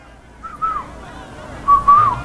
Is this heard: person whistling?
yes